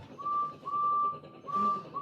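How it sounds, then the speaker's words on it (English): A clear train whistle sounds in repeated drawn-out blasts, three or four sustained tones separated by short pauses, moderately loud. "Then they heard a whistle."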